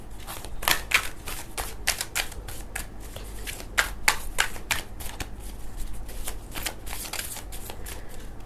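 Tarot cards are shuffled by hand in a fast, steady riffle of crisp flicks and slaps that runs without pause, close and clear with no talk.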